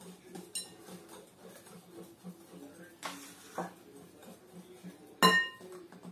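A spoon stirs cake batter in a bowl, with soft scraping strokes and sharp clinks of metal against the bowl, one louder clink standing out, close and otherwise quiet.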